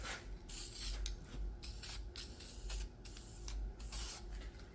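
Graphite paint sprayed from a can in steady hissing bursts, close and fairly quiet, with short pauses between passes.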